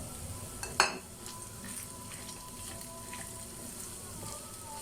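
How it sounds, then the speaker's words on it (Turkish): Onion and garlic sizzle with minced meat in a pan for a lasagna filling, a steady close frying hiss broken by one sharp clatter of stirring near the start. "Bunları da kavuruyorum güzelce."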